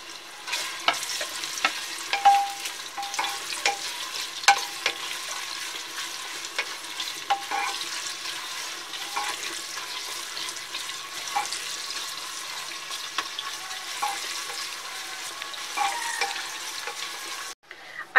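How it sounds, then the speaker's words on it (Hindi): Browned onions fry in oil in a pressure cooker with a steady close sizzle, broken by repeated scraping stirs and clinks of a spoon against the metal pot. "अब इसमें हम जो अनियन ब्राउन करके निकाली है वो ऐड करेंगे और इसे ब्राउन होने तक फ्राई कर लेंगे"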